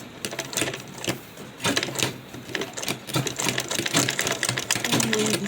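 Sewing machine stitching fabric for a fashion tote bag, running in quick mechanical bursts with short pauses between seams, close and fairly loud with no talking.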